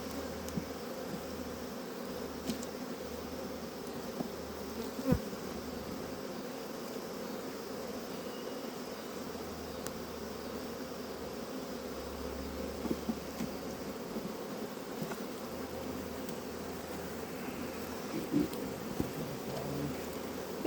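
Honeybees hum steadily around an open backyard beehive, a soft continuous buzz with occasional louder passes of individual bees close by, no talk.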